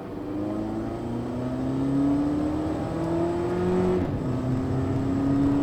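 A 2010 Skoda Laura (Mk2.5 Octavia) with a DSG gearbox driving in second gear: steady, moderately loud engine drone that rises gently in pitch as it gains speed, dips briefly, then climbs again, with road and wind noise underneath.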